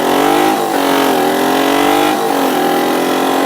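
Motorcycle engine revving during a downshift, a continuous loud mechanical whine with pitch dips and rises as the revs blip between gears, close and steady throughout with no talk.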